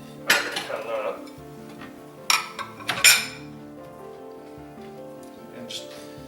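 A knife works through lobster tails on a small plate, giving three or four sharp metallic clinks against the dish with quieter scraping between them, close by and without talk.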